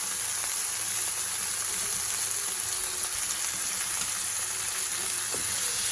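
Butter melts and sizzles in a hot pan beside a cooking steak, a constant hissing fry held at an even, fairly loud level throughout, with no talking.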